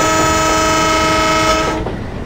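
Locomotive of a Jan Shatabdi Express in Train Simulator slowing under gradually applied brakes, a loud sustained horn-like tonal drone over rumble that cuts off and fades near the end.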